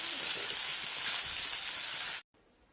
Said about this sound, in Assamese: ইফালে আলু ভাজি আছোঁ